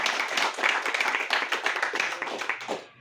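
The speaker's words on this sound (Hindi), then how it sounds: "उसके लिए मैं जोरदार ताली बजाता हूं।" An audience at a Ganesh committee award event claps loudly in a dense, steady patter of hand claps that lasts about three seconds before quickly fading out.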